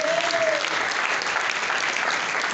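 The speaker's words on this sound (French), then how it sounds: "Est-ce qu'on peut vraiment applaudir pour Rocco Bocabé," A crowd at the Nzonzing Awards trophy ceremony applauds steadily and loudly for an honoree. A brief tone rings at the start, then dense clapping fills the rest.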